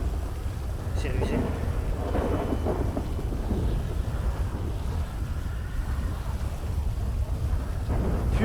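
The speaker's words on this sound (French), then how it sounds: "fais chier cette pluie" Rain and rumbling thunder from a video game form a continuous stormy wash with a few sharper cracks, while people talk softly underneath.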